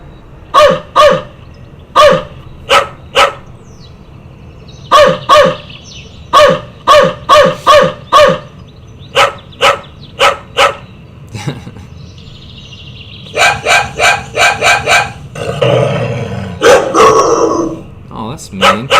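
Dogs in an advertisement bark in short repeated bursts, loud and close, with some birdsong in the background. Bursts of human speech come between the barks.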